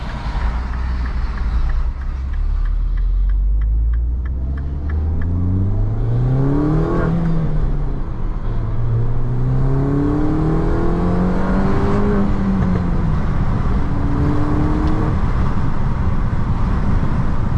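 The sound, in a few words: Mini Cooper S R56 engine accelerating during drive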